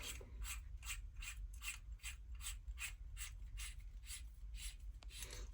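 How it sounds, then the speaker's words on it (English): Adapter sleeve wrapped in Teflon tape being screwed onto a bathtub drain, a quiet rhythmic ratcheting, rubbing scrape repeating roughly every half second, close and steady, with no talking. "I'm going to screw that adapter sleeve onto my drain."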